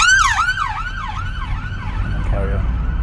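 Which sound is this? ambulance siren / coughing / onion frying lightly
ambulance siren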